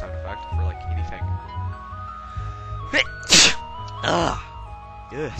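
A loud close sneeze over game music from Super Mario World, followed by a second sneezing burst a moment later.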